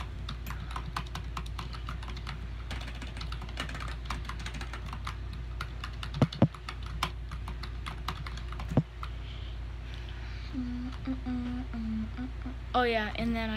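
Typing on a computer keyboard at a gaming PC setup, rapid irregular clicks running steadily throughout, quiet and close, with a few louder clacks and a brief voice near the end.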